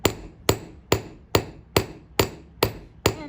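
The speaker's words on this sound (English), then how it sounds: "So I'm going to switch over to the cross peen. And I'm going to hammer down the middle." Eight evenly spaced, ringing strikes of a cross peen hammer on hot metal being forged, roughly two per second, loud and close with no talk.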